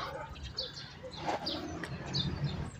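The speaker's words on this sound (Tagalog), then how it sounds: "Tapos may tunog pa ng ibon" Faint bird chirps and short calls come from a distance over a low, murky background hum, scattered across a few seconds.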